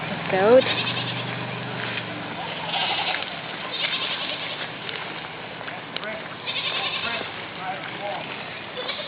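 A goat near a flooded creek lets out a few short bleats amid outdoor background noise, with people talking over it.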